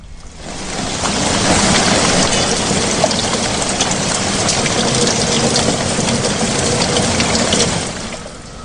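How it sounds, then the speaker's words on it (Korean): Heavy rain pours in a dense, continuous wash of noise, loud and close, swelling slightly and fading at the end, used as a horror radio drama sound effect with no voices. "이날은 비가 무척 많이 내렸다."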